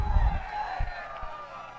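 A high school football crowd in the home stands roars and cheers after a big hit, a distant swell of voices that peaks early and then settles into a lingering murmur.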